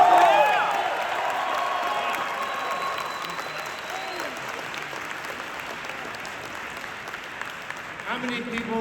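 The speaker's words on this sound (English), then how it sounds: "Let's have another round of applause for John Carpenter." A crowd gives a loud, sustained round of applause for John Carpenter, dense clapping with some cheers that stays strong and slowly eases off, with a voice briefly heard near the start.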